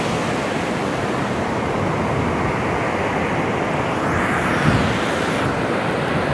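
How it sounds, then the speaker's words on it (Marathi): Ocean waves breaking on a beach while fishing for stingray, a broad continuous roar of surf with a slowly swelling wash, loud and steady with no talking. "लाटेचा आवाज बघा"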